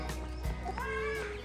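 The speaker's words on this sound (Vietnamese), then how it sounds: "Đây này, đàn gà choay đang ăn nhá." A flock of chickens feeding clucks softly nearby, a few short calls over a quiet farmyard background with a faint drawn-out cry.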